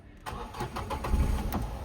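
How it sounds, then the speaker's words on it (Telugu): A 2017 Renault Kwid RXT petrol car starts on a single crank, a short cranking burst catching into a steady idle close by. "ఒకసారి ఇంజన్ కూడా స్టార్ట్ చేసి చూపిస్తాను సార్"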